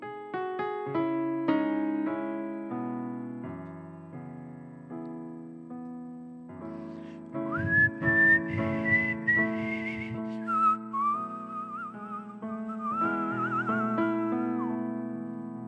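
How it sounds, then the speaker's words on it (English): Someone whistles a melodic tune over sustained instrumental chords during a livestream performance, bright sliding whistled notes entering midway and running to the end, clearly audible above the accompaniment. "a little bit of whistling at the end"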